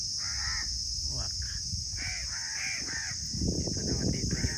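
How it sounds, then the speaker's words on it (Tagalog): Crows caw repeatedly in short harsh bursts over a constant buzz of insects, with faint voices murmuring in the background. "Uwak."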